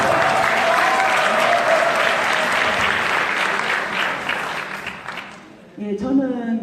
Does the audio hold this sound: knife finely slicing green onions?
no